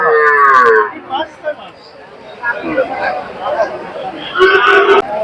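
Cattle moo loudly up close at a large cattle market in Kaitla, Mirzapur, Tangail, Bangladesh, one long call at the start and another near the end, with a crowd's murmur and voices between.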